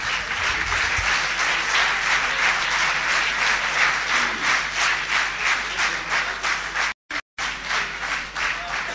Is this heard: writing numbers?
no